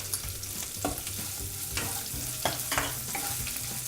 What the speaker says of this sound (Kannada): ಇದೆಲ್ಲ ಚೆನ್ನಾಗಿ ಫ್ರೈ ಮಾಡ್ಕೋಬೇಕು